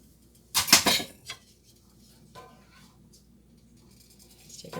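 The back of a spoon scrapes and clatters against a dish while dinner is cooked. A short, fairly loud burst of scraping comes early, followed by a few faint clinks in a quiet kitchen.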